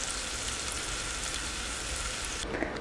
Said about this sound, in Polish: Smaży się cebulka.